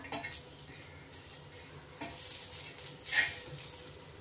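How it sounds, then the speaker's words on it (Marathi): Dried coconut pieces dry-roasting in a pan for a chicken gravy masala, with faint stirring scrapes and a soft, low sizzle, quiet and intermittent. "सुकं खोबरं घेतलेलं आहे आपण, तेही चांगलं भाजून घेणार आहेत."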